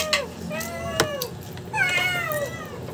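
A cat meows repeatedly, begging for food while tuna is fried in a home kitchen. The calls are clear and close, several drawn-out meows in quick succession, with a faint voice in the background.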